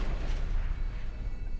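Dense, rumbling low-end booms and crackling blasts roll continuously, heavy cannon fire in World of Warcraft's Siege of Orgrimmar Underhold, loud and unbroken throughout.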